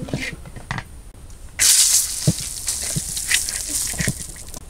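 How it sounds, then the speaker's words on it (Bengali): Dried chillies frying in hot fish oil, a sudden loud broadband sizzle and hiss bursting in midway and continuing steadily close by, with faint clinks and stirring taps before and during. "আমি এই তেলের মধ্যেই শুকনো মরিচ টেলে নেব কাটা।"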